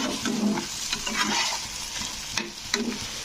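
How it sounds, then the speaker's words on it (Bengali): Pointed gourd sautéing with a cashew-coconut paste, a close sizzle with the scrape and stir of a spoon in short strokes, steady frying underneath and no talking. "নারকেল কোড়াটা দিয়ে এই মশলাটা দিয়ে এটাকেও মানে একটু পটলটাকে কষে নিতে হবে"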